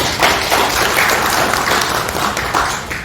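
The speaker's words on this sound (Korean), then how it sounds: "박수를 주시면 고맙겠습니다" Loud, close applause from a forum audience welcoming a professor to the panel, a thick wash of many hands clapping that swells early and then holds steady without speech.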